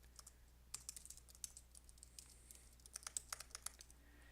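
Quiet keystrokes on a computer keyboard tap out in an irregular stream while an email address is typed, close and soft with a low steady hum beneath.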